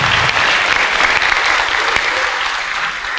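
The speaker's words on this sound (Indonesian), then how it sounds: "tepuk tangan untuk Pak Mahfud" A short burst of steady audience applause for Pak Mahfud at a public talk, filling the room evenly and tapering slightly toward the end.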